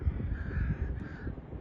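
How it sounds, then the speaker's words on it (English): Crows caw repeatedly outdoors in Washington during a commotion among birds, a rough, overlapping chorus of calls set against a noisy, wind-filled background. "The crows are going crazy over there."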